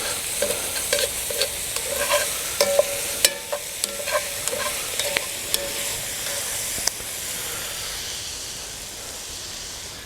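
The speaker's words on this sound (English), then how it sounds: "The mushrooms are starting to fry in that olive oil that I put in there." Mushrooms sizzle steadily as they fry in olive oil in a pot, with a continuous close hiss and occasional spatter pops and stirring clicks, alone without voices.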